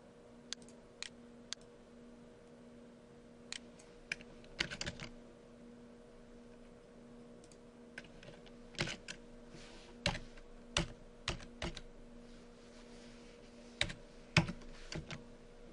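Someone typing on a computer keyboard, with scattered sharp key clicks in short irregular runs, close but soft over a faint steady hum.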